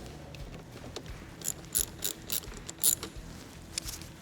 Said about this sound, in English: We'll loosen the 8mm bolt